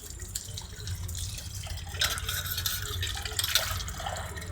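Tap water runs steadily into a mixer jar as it is rinsed at the sink, and the flow splashes and gurgles with brief louder bursts while the jar is swirled. The sound is close, and no one speaks.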